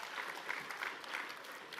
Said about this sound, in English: you can clap for Shabbos. Let's give him a hand.